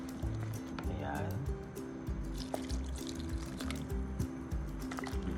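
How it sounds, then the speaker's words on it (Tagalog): Water is poured from a container into flour for homemade lumpia wrapper batter, a soft trickling fill heard under steady talk and kitchen clatter. "ilalagay muna po natin ang kalahati ng ating tubig"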